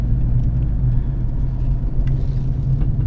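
Steady low engine rumble from inside a Mitsubishi Pajero NT automatic cruising in third gear with the torque converter unlocked, a constant road drone with no shifts or talk.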